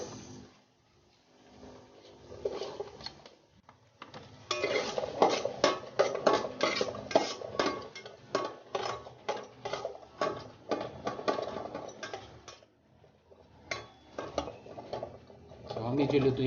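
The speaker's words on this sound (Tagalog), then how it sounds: "So medyo lutuin lang natin yung sibuyas bago tayo mag-carrots" Onions being cooked in a rice cooker pot for pancit, heard as busy stirring and clattering of a utensil against the pot, with soft cooking sizzle underneath and brief pauses between bursts.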